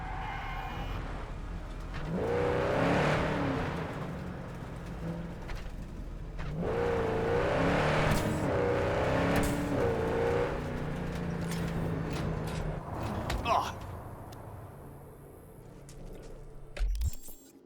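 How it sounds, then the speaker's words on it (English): A Porsche driving in Cyberpunk 2077: a revving engine rises and falls in two long accelerating passes with whirring tones over steady road noise, then a sudden loud thump near the end. "I love his Porsche"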